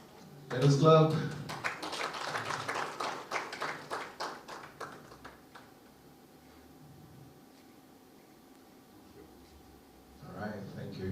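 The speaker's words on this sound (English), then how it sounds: "Let us clap." Audience applause at a report launch for Kenya's nonprofit sector, a burst of clapping that swells loud at first, then thins and fades over several seconds, with a brief return near the end.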